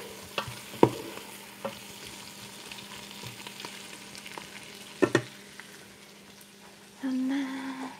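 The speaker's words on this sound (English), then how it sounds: "We're just sweating these onions down a bit." Onions sweating in a pan give a soft, steady sizzle, with a few sharp clinks of a utensil against the pan and a louder burst of frying near the end.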